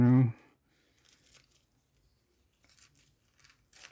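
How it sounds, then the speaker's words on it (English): Scissors cut a plastic sandwich bag at a workbench, giving a few quiet, close snips and crinkles spread out over the stretch, with a short burst of speech at the start. "I have a sandwich bag here. Which I will cut,"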